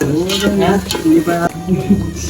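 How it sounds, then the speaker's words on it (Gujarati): Chopped tomatoes and garam masala are stirred into onions frying in oil in a pan, a steady sizzle with scraping stirs, under faint voices in the background. "હવે ટમેટા અને ગરમ મસાલો નાખી દીધો છે."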